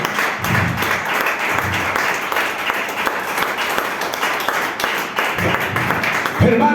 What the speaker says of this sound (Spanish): Ven una ofrenda de palmas al Señor.